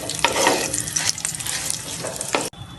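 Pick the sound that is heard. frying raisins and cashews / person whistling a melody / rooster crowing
frying raisins and cashews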